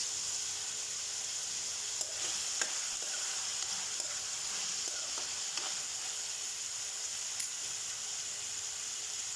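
Vegetables fry and sizzle in a pan with a steady bright hiss, broken by a few soft clinks and scrapes as they are stirred; no one speaks.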